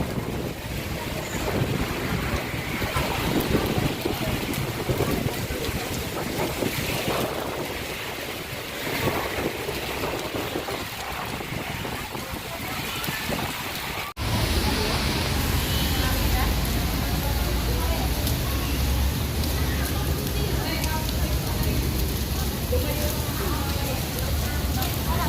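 Heavy typhoon rain roars steadily with gusting wind buffeting the microphone, and a voice speaks faintly in Filipino beneath the downpour in Hong Kong.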